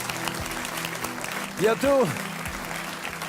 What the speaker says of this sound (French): je propose qu'on l'applaudisse une nouvelle fois